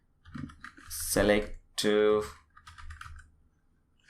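Typing on a computer keyboard while setting up an online course site, soft clicks scattered under someone speaking close by.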